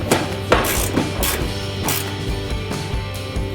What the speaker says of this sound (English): Now tighten the bolts down with a ratchet.